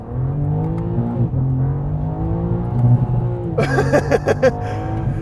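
A 2022 BMW M2 CS with a twin-turbo inline six launches hard, the engine note rising loud and close through the gears from inside the car, with sharp bangs and crackles near the end.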